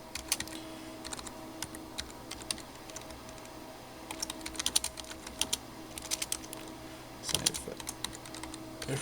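Password being typed on a computer keyboard: irregular bursts of light key clicks in uneven clusters, close and fairly quiet over a faint steady room hum, with no talking.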